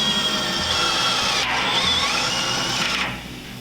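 A power drill drives screws into a 55-gallon steel drum, a steady loud whirring motor hum rising and falling through the cut, then winding down near the end, with no talking.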